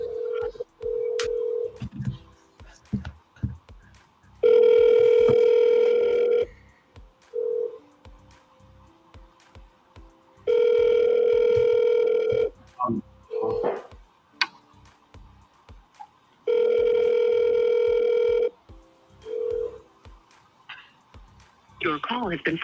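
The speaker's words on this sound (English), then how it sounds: "You better answer your goddamn phone, Dustin." A telephone rings unanswered in an office, loud, steady tones repeating in three long bursts a few seconds apart, with quieter clicks and background sounds between them.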